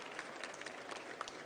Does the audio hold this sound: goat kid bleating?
no